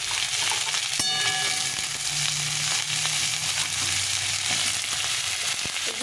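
Pointed gourd and ridge gourd fry in a pan with a steady, loud sizzle. A brief clank sounds near the start, with light stirring underneath.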